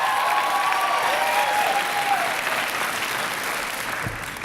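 Sustained audience applause fills a commencement ceremony, a dense, even wash of clapping from a large crowd that holds steady before thinning slightly near the end.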